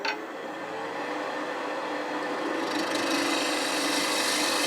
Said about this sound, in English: this time we're just going to use a scraper for the whole thing